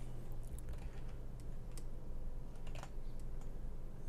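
Computer keyboard keys are tapped in a quick, light, uneven run of clicks, close but faint over a constant low electrical hum, with one firmer keystroke among them.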